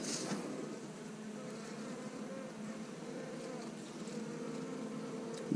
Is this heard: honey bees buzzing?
yes